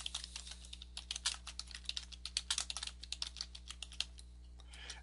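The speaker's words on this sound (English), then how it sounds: "I'll type in the site name" Typing on a computer keyboard while entering a site name during a WordPress install, a quick, uneven run of light clicking keystrokes, close and quiet, with no speech.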